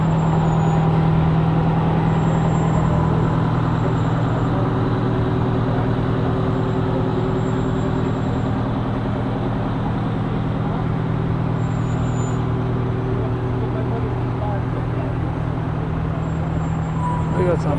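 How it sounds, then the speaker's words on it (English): Huge trucks rolling down the road in a small-town 4th of July parade, a steady loud engine rumble with low droning tones held throughout, faint traffic and air-brake hiss mixed in. "We got some huge trucks down the road here"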